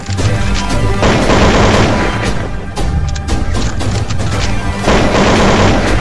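Loud, dense gunfire and explosive bursts from the Free Fire video game, continuous heavy shooting with booming blasts throughout, in a dubbed comedy parody set to a KGF theme.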